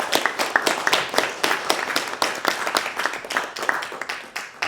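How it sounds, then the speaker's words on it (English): Close, fairly loud applause after a reading event, individual hand claps in a quick uneven rhythm from a small group, heard on its own. "A round of applause for you."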